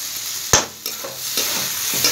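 A spiced potato mixture fries in a pan while being stirred, with a sharp scrape and a few knocking strokes over a low, steady sizzle, heard up close.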